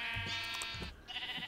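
Sheep bleating in the survival video game TerraFirmaCraft, a few wavering, nasal bleats close by, loud and clear with no talking over them.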